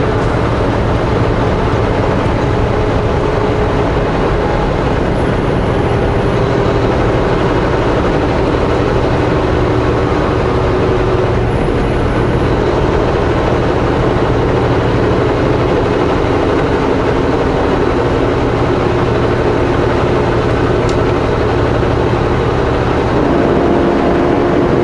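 A vehicle engine pulling under throttle through a road corner near Christina Lake, British Columbia, heard as a steady, continuous low drone with road rumble, fairly loud and close, with no voices.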